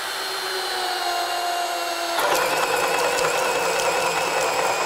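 A Ryobi 18V ONE+ brushless 1/2-inch hammer drill bores a hole near a vise, giving a steady high motor whine that rises into a louder, rougher grinding partway through, continuous and close with no talk.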